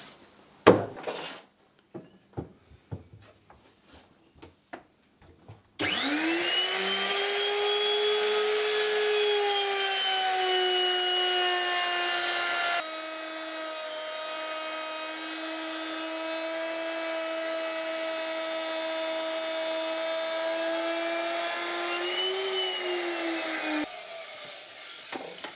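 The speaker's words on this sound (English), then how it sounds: "So I'm just going to router a little half inch deep groove, and that'll bed it in nice and flat." A router cuts a half inch deep groove into a wooden tabletop, spinning up to a loud, steady high-pitched whine that holds for long stretches, shifts pitch as it bites, then winds down.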